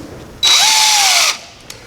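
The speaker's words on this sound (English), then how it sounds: "we've got the 90-degree drill" A 90-degree power drill whirs at full speed for about a second, close and loud, then spins down and stops, while rigging a bass boat.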